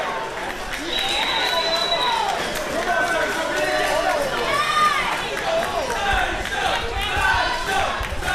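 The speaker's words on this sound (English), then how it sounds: "Listen to this crowd come alive" A large wrestling crowd roars and cheers loudly and continuously, with excited shouts rising and falling through the noise.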